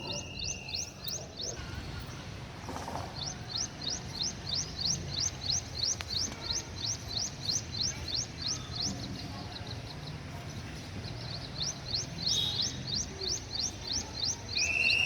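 Small birds chirp in a home garden, a fast repeated series of high, bright chirps in steady bursts over quiet background noise, fairly close and clear.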